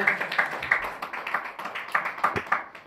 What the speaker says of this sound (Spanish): demos un aplauso fuerte al Señor